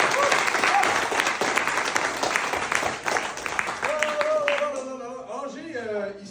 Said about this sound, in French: on applaudit Gabriel et Sébastien!